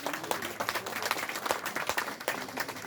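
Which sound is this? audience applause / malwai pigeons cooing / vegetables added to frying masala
audience applause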